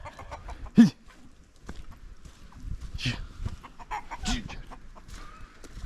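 A hen clucks in short, close bursts scattered across the stretch, with one sharp louder squawk near the start and quieter murmuring clucks between, no voices.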